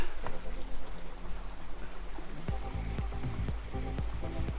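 Green Ant Creek flowing along a walking trail in Litchfield National Park, a steady broadband rush of water running continuously throughout, with some clicking and handling bumps in the later part.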